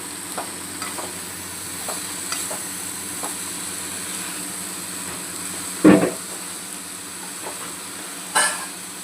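A spoon stirs ridge gourd (turai) sabzi in a pan over a soft, steady sizzle, with light scrapes throughout and two sharper, louder clatters near the end, no talk.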